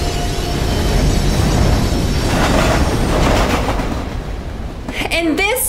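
A train rushes past on railway tracks in the video game Life is Strange, a loud sustained roar with rattling and a brief squeal near the end, and a voice talks over it.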